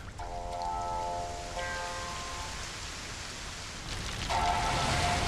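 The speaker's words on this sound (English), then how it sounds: "Ominous clouds, torn apart. unleashing a torrent of rain." Torrential rain from storm clouds in a Monster Hunter Rise: Sunbreak cutscene, a dense steady hiss rising in intensity, with faint tonal musical notes drifting over it.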